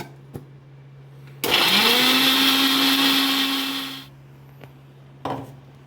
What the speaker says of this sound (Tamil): மிக்சியில் தேங்காயையும் பொட்டுக்கடலையும் போட்டு ரெண்டு பச்சை மிளகா நாலாக வெட்டியிருக்கேன் நாலு பூண்டு